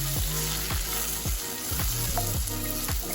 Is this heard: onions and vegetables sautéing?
yes